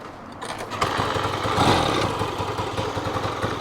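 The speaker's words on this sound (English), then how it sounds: "See if we can kick it." A Yamaha GT80 motorcycle being kick-started: a short rattle of kicking, then the small engine briefly sputters and runs with a clattering, uneven note close by.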